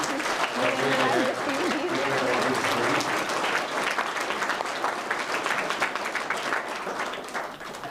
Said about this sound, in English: So please clap for both the English faculty.